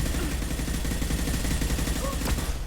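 Rapid bursts of gunfire from the sci-fi shooter Mass Effect 2 crackle steadily through a dense, busy combat mix, with a brief sweeping tone near the end.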